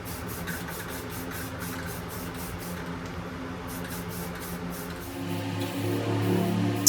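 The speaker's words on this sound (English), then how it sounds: "Spraying the inner edge as well." Steady hissing of a spray paint can coating fiberglass fenders of a 4th-gen Toyota 4Runner, continuous, with a low mechanical hum underneath growing louder toward the end.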